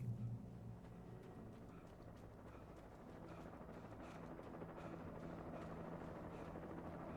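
Helicopter in the Alan Wake video game, a steady rotor drone and low engine rumble that holds throughout at a moderate level with no talk over it.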